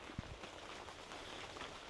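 Rain falling on a homestead, a steady broadband hiss of drops on surfaces with one soft thump near the start, close and even throughout.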